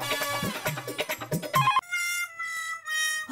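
A telephone rings while a call is placed: an electronic ringtone with clear repeating tones, loud and close, following a short stretch of music at the start.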